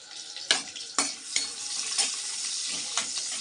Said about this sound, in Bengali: এটা আমি নেড়ে